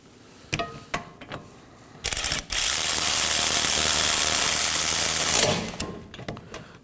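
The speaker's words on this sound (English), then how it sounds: "I'm going to snug these down for now." A ratchet tightens an 18 mm caliper bracket bolt on the rear brakes of a 2018-2024 Chevrolet Equinox: a few short clicking bursts, then a long, loud, steady run of rapid pawl clicks, tapering into scattered clicks.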